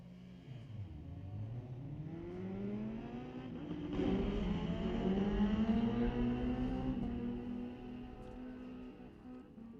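Street-legal drag-racing motorcycles at Mission Raceway Park, a pair launching and accelerating down the strip, with engine pitch climbing through rising revs, peaking loud near the middle, then fading into the distance.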